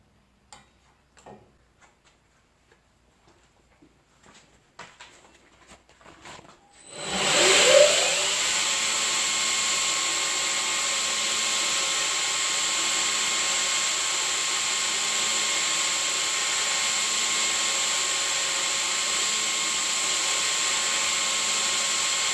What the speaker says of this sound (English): I'm going to clean up the tungsten, which I will do on the belt grinder